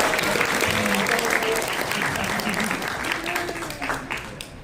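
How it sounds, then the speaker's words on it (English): Audience applause for volunteers at an anime convention panel on Gyaru fashion, a dense, steady clapping wash from a sizable crowd that holds for several seconds and tapers slightly, with faint voices mixed underneath. "Round of applause for our volunteers."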